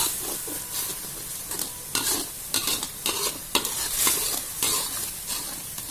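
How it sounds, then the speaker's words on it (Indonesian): Ground spice paste sautéing in a pan for stir-fried yellow velvetleaf greens, a steady close sizzle with frequent scraping stirs and crackling bursts throughout. "tumis bumbunya hingga masak dan mengeluarkan aroma yang"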